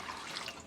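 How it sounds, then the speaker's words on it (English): Ice cold water being poured into wing sauce in a kitchen, heard as a brief, faint, steady splashing trickle. "And then in goes cold water,"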